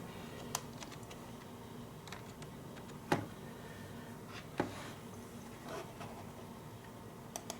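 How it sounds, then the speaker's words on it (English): Typing on a wireless computer keyboard, heard as a few sparse, quiet key clicks with a couple of sharper taps in a quiet room. "Let's see if this wireless keyboard is working"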